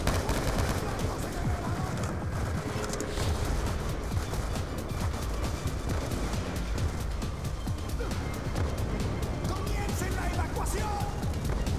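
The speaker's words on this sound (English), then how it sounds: "Fucking shooting me like that." Dense, continuous gunfire from the Call of Duty Black Ops 2 campaign, rapid automatic bursts layered with game effects at a constant loud level.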